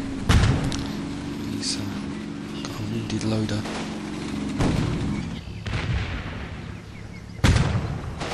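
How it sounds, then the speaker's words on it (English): Mortar rounds launch in the Combat Mission war game, several sharp booming thumps spread across the stretch, with someone talking over much of it. "Last set of mortars firing off."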